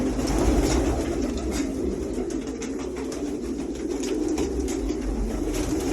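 French meat pigeons coo softly in a loft in Egypt, low rolling calls repeating under a constant background rumble, with no one speaking.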